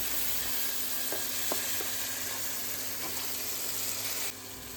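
Onions frying in a pan, a steady sizzle with a few soft stirring knocks, fairly faint and even, ending in a slightly quieter stretch.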